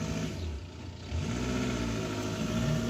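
A car engine drones close by, dips briefly and then rises into a sustained rev as the car passes, loud and steady with no voices.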